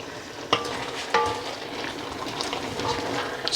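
Spring greens cooking down in a pot are stirred with a spoon, giving soft scraping and sloshing with a couple of sharper knocks against the pot over a steady low sizzle, close by and with no voices.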